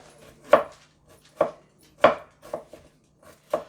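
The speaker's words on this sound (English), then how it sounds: "with our steak here, after I finish slicing all this up" A knife cuts through steak on a board in a series of separate, crisp chops with an uneven rhythm, about six strokes, close and fairly clear against a quiet background.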